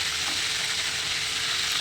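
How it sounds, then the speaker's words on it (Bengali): Fish fries in a hot pan with a continuous, even sizzle, close and steady from start to finish with no voices. "মাছ যখন বসাচ্ছি, মাছ এখন ভাজা হচ্ছে।"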